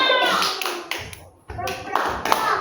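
Hands clap in a quick rhythmic pattern, mixed with chanting voices and a short pause midway.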